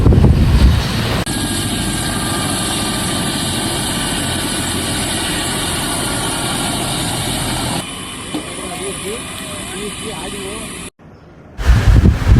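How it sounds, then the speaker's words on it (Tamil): A loud, steady helicopter engine roars and whines close by as it takes off during a rehearsal in Rameswaram near Pamban Bridge, with wind buffeting the microphone, then it cuts off abruptly near the end. "ஹெலிகாப்டர் ஒத்திகை தான் இப்போ நீங்கள் பார்க்குறீங்க இதில் அப்படியே டேக் ஆஃப் பண்ணி"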